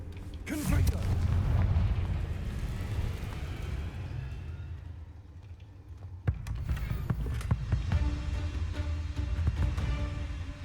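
A fiery Confringo spell explosion in Hogwarts Legacy, a loud booming burst at the start rolling into a rumble, followed by sharp combat hits and clatter, with a voice talking faintly underneath.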